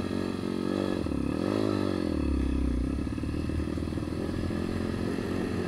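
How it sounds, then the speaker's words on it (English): Dirt bike engines revving on a farm as riders set off, loud and close, a steady droning roar that rises and falls in pitch without letup. "So we're gonna rip these bikes."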